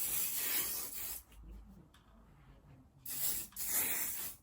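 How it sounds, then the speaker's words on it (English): Hairspray sprayed from a can onto freshly curled hair in two bursts, a loud close hiss for about a second, a pause, then a second longer hiss. "I'm just going to do it again with the hairspray."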